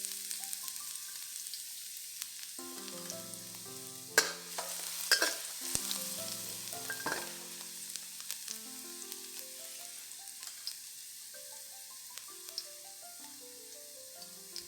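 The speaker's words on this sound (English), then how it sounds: "Now, fry the garlic till it's fragrant." Garlic frying in three tablespoons of oil in a pan over medium heat gives a steady, soft sizzle with a few sharper crackles, running continuously under background music.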